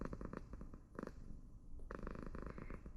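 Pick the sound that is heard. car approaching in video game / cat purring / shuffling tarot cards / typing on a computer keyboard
cat purring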